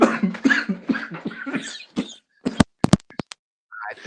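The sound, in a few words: cough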